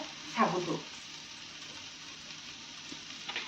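Soaked sago hits boiled potatoes in a hot pan, a sudden loud sizzling burst that settles into a steady, softer frying hiss with a faint stir near the end.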